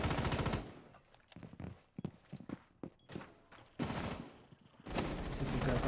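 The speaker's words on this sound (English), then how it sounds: "See some gunfire being exchanged." Rapid bursts of automatic gunfire in the video game Rainbow Six Siege crackle in quick succession, with sharp individual shots between them and a low voice faintly underneath.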